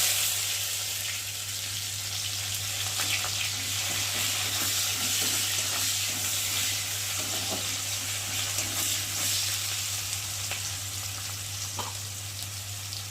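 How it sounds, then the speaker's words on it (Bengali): Chopped onion fries in hot oil in a pan, a dense, even sizzle running throughout with a steady low hum underneath and occasional faint clicks. "ফোড়নটা ভাজা ভাজা হয়ে গেছে, আর এখন দিয়ে দেবো পেঁয়াজ কুচি।"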